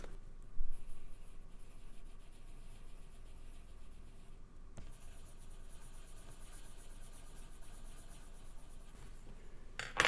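Faint, steady scratching and squeaking of a marker rubbing across a surface, continuous and close, with a brief louder tap near the end.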